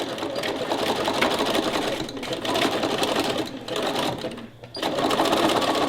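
Sewing machine stitching zigzags on a fabric visor, a steady fast mechanical whir running continuously with brief dips where the stitching pauses, close and clear.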